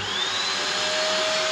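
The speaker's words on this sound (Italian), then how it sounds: "Aspirapolvere da 600 watt, tra l'altro personalizzato per aspirare la mia macchina." A 600-watt vacuum cleaner runs at full power, a loud steady whine and rushing airflow close by, unbroken for the whole moment.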